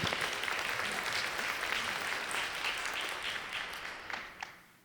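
Audience applause at a panel event, dense steady clapping from a large crowd that continues for about five seconds before gradually thinning out toward the end.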